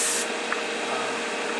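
An airbrush sprays enamel paint on a 1965 Impala, a steady soft hiss of compressed air and paint, close and continuous, with a brief tick partway through.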